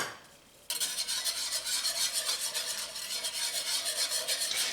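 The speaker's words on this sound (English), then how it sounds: "Actually, I'm going to whisk it in." Flour being whisked into gravy for a Swiss steak dinner, a steady rapid scraping and rasping of the whisk that starts abruptly and continues evenly throughout, close and fairly loud with no talking.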